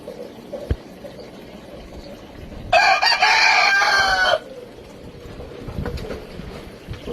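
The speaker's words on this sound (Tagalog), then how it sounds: "Ating mga manok, pato." A rooster crows once, loud and close, in a single drawn-out call lasting under two seconds. Faint clucks and low background noise surround it.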